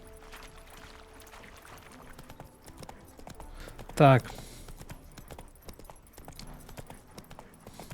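Horse hooves clip-clop steadily on a path in the video game The Witcher 3, under ongoing character dialogue, with one sudden loud burst midway.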